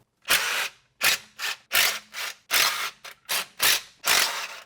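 A ratchet wrench working an E10 pressure plate bolt on a Porsche 911, nine quick bursts of clicking in an uneven rhythm, close and fairly loud with short pauses between strokes.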